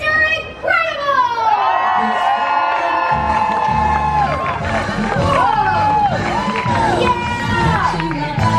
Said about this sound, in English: you gotta make a ton of noise, a lot of clapping, a lot of screaming